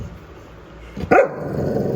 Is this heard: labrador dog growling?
yes